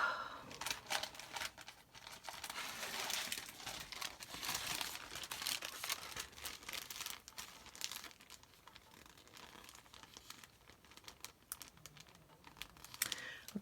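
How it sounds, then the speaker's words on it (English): A plastic bag is handled and crinkled at a journaling craft table, with soft, irregular rustling and crackling close by at low volume. "I've got a plastic bag here."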